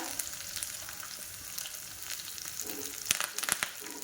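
Green chilies and chana and urad dal tempering in hot oil in a pan for curd rice, with a steady crackling sizzle and a few sharper pops near the end, no voices.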